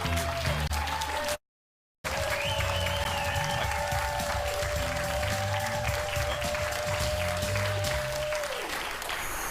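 Studio audience applause on a talk show, a steady wash of clapping that runs loud and continuous, broken by a brief silent gap, with tonal background music underneath.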